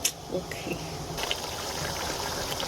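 Water poured into a cooking pot on a stovetop, a soft trickling and splashing under a steady hiss, with a brief voice near the start.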